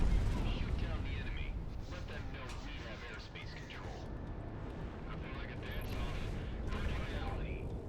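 Railgun shots and heavy combat noise from the aerial game Project Wingman roll together into a dense, continuous rumble with booming impacts, while someone talks over the action.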